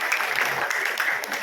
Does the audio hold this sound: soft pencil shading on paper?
no